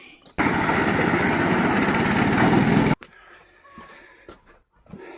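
A small Chinese walk-behind tractor engine on a homemade tractor roars steadily for a few seconds, loud and close, then cuts off abruptly, leaving quiet background sounds.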